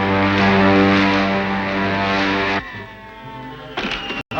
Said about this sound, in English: I hear the motor of a spaceship.